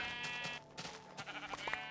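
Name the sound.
brown sheep bleating in the video game Minecraft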